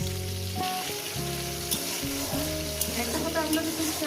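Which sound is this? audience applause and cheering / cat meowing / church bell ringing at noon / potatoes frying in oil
potatoes frying in oil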